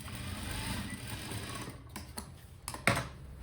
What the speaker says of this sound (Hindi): ये हम सिलाई इसकी लगा दे रहे हैं ऐसे